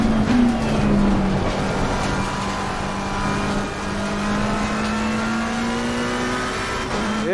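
A race car engine in a racing sim video game, a loud steady high engine drone with shifting pitch as it changes gear, alone without talk.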